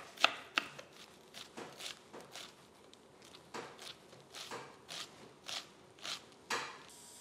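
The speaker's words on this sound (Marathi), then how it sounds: "पानकोबी बारीक चिरायची क्रिस्पी" A knife finely chops crisp cabbage on a board, close and dry, in quick irregular strokes with short pauses between bursts.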